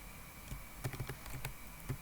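Fingers tap on a computer keyboard, a quiet close sequence of light irregular clicks scattered across a couple of seconds with small pauses between bursts, and no voices.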